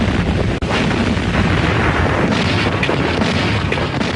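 Artillery fire in archival war footage, a dense, loud continuous rumble of booms and blasts filling the whole stretch without pause.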